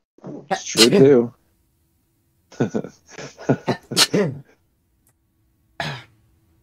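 A single sharp sneeze bursts out close and loud, with people talking before and after during a Halo multiplayer game.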